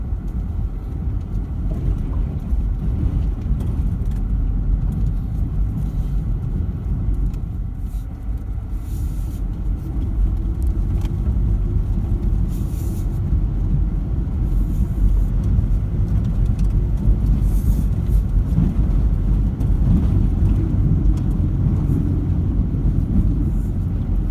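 A 4WD Toyota Prado or Hilux on a river-crossing bush track, engine rumbling steadily and loud with a wheel spinning, a continuous low drone throughout with no talk.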